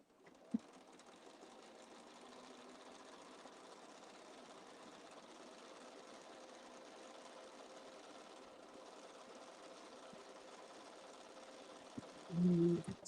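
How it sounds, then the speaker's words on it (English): A sewing machine top-stitches a pocket on a Liberty print handbag, a faint, even whirring hum that runs steadily throughout and ends with a brief louder clunk. "I need to do a top stitch first."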